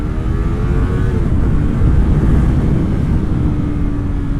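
Yamaha R3 motorcycle engine running loud and steady throughout, a broad continuous drone with a rising and falling engine pitch, heard up close with wind noise and no talking.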